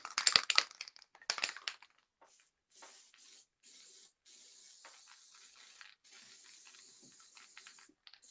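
Aerosol spray paint hissing onto a cup held over a garbage can, two loud early bursts followed by steady softer spraying in several longer passes, close and alone.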